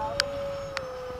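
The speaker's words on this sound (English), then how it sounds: "You gotta see why this motor is whining so much." Electric motor of a model MiG-21 jet whining at a steady high pitch, a continuous tone that drifts slightly lower, with two brief sharp clicks over it and no talking.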